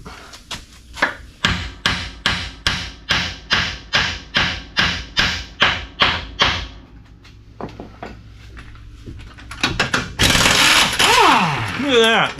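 Loud, rapid hammer taps knock a part loose while working on a 1969 wagon: about a dozen evenly spaced thuds over several seconds, followed by quieter clatter and a sharp, sweeping metallic screech.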